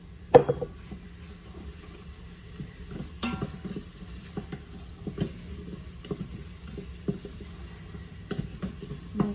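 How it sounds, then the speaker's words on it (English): Garlic frying with softened, cooked-down onions in a pan for beef bourguignon, heard as a low steady sizzle broken by scattered clinks and scrapes of a spoon stirring against the pan, close and alone with no talk. "I'm gonna add in my garlic and cook it very, very quickly to keep it from burning"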